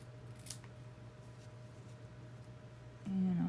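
Scissors snip through fabric during a slow-stitch kawandi quilting session, a quiet sharp cut near the start followed by a louder rustle of cloth handling at the end over a steady background hum.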